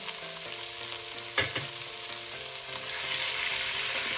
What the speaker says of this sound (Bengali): এবার আমি মূলোটা একটু সামান্য একটু ভেজে নেব ফোড়নের সাথে